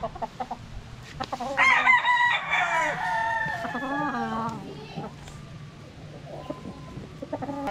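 A national banded stag gamecock crows once, loud and close, in a long wavering call, with short clucks and soft farmyard noise before and after.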